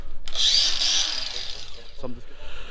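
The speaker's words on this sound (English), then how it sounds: "I was able to cut that off with the grinder" A cordless angle grinder cuts a bracket off a VW Golf Mk3.5 with an ABF engine, giving a loud, steady high-pitched whine for about two seconds before it winds down near the end.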